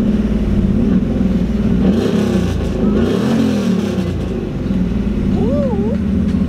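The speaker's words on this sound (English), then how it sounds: "Let's hear a little bit of that rev." A BMW E46's engine revs loudly and close, its pitch climbing and falling in a couple of surging sweeps over a constant rumbling idle.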